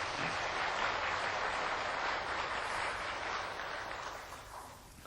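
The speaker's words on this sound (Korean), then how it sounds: "박수 한번 드리도록 하겠습니다" Steady applause from a crowd, dense continuous clapping that holds for several seconds before slowly beginning to fade.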